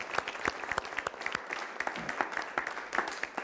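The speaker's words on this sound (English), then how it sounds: "How about a big round of applause to Dr. Jamie Lucia for setting this up tonight?" Audience applause for Dr. Jamie Lucia at a Los Altos community evening, a sustained patter of many clapping hands, fairly close and steady with no voices over it.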